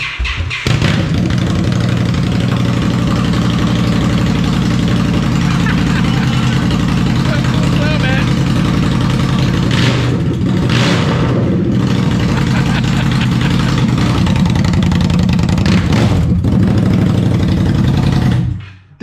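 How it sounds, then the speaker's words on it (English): Indian Scout motorcycle engine running loud and close on straight pipes with no mufflers, a steady rumbling idle with small blips of throttle throughout, voices talking faintly underneath. "you want to see what it sounds like now? Straight pipes."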